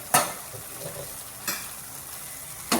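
Mustard masala and boiled taro leaves stirred in a frying pan, with a steady low sizzle and three sharp scraping strokes of the spoon spaced about a second apart, close and fairly quiet.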